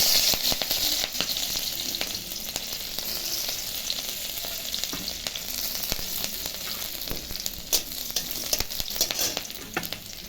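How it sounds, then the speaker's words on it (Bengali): Garlic and green chilli fry in hot oil in a wok, a busy steady sizzle broken by repeated scraping stirs, close and alone with no voices. "কড়াই তেল দিচ্ছি, যে রসুন আর কাঁচা লঙ্কাটা দিয়ে দিচ্ছি"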